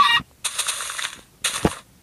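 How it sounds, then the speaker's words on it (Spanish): Clucking squawks from a chicken in a survival video game, two sharp bursts of noisy fowl-like calls separated by silence, close and fairly loud. "Ah, no, es un pollo, me equivoqué."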